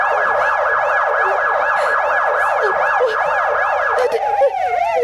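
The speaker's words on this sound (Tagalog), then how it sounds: "nganong may ambulansya" An ambulance siren wails loudly and close by in steady rising-and-falling sweeps, shifting to a different pitch pattern near the end as if passing or changing mode.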